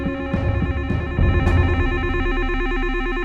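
A telephone rings with a repeating electronic trill, loud and close, over a sustained musical drone.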